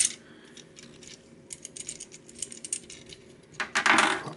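Plastic parts of a Transformers Generations Octane toy clicking and rattling as its windows fold back, a few scattered light clicks followed by a louder burst of handling near the end.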